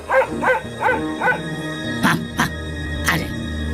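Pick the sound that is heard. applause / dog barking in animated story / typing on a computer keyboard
dog barking in animated story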